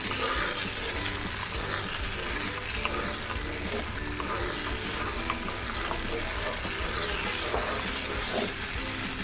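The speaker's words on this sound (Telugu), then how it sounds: "మనం కార్న్ఫ్లోర్ వాటర్ పోసుకున్నాం కదా" Boiling sugar syrup for Karachi halwa sizzles and bubbles steadily as cornflour water trickles in, with faint stirring, continuous and close throughout.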